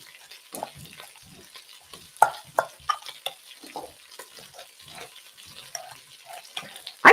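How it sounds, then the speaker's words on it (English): Food is stirred in a pan, with irregular scraping, clinking and soft splashy taps recurring close by amid faint sizzle and background murmur. "Then I'll stir this up."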